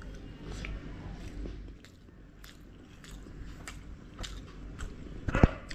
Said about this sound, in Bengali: বাট আপাতত আলু দিয়ে কলকাতার বিরিয়ানি খাই